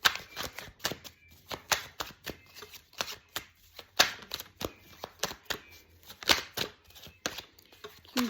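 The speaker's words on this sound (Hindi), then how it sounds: "पहले कार्ड को क्लोज करके फिर से शफल करती हूँ।" Deck of tarot cards shuffled close up, a quick steady patter of crisp riffling slaps and flicks repeating throughout, with no voices.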